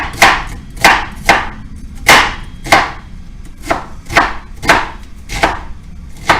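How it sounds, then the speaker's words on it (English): A knife chops onions on a cutting board in about ten sharp, evenly spaced strokes, close and loud, each one a crisp thud with no talking. "We're going to cut those onions up."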